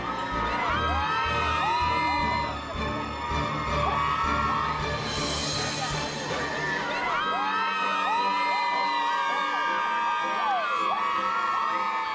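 A circus crowd of families and children cheers, shouts and whoops at the Elephant Walk as elephants and horses parade to the arena. The dense, excited roar holds steady throughout, with bursts of high yelling.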